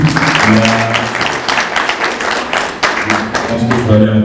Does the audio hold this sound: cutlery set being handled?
no